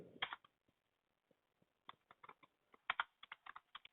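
Fingers type a Docker command on a computer keyboard, with irregular bursts of crisp key clicks separated by short pauses, close and fairly quiet.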